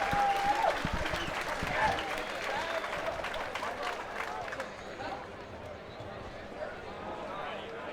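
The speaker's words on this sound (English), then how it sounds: "A big round of applause for both of our warriors this evening." Crowd applauding and cheering in a large hall after a combat sports fight, loud at first and then tapering off, with an announcer's voice over it.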